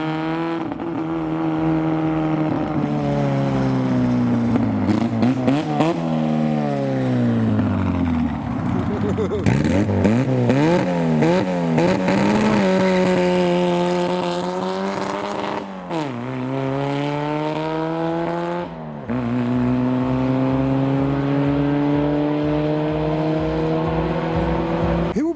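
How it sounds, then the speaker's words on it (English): Slammed cars leaving a car show, including a Mark II Austin-Healey Sprite, engines revving and rising and falling in pitch as they pull away, loud and close, with continuous engine drone throughout. "Well, one of the first cars leaving, not the van, is one of the best cars of the day."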